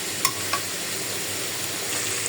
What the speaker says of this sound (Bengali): দিয়ে দিলাম কবুতর, একটু হালকা ভেজে নেই